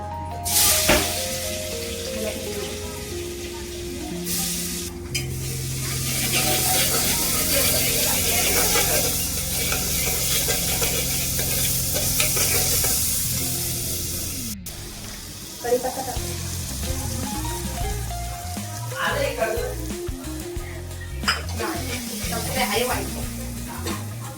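Prepared masala for black bean rice hits a hot pan with a loud sizzle that settles into steady frying, with clatter and stirring scrapes and some background sounds, including tones, near the start.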